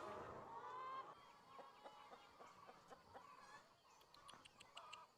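Hens clucking in a farm setting for an egg brand, a sustained crowing-like note at the start followed by repeated short clucks and calls, fairly close and clear with no talk.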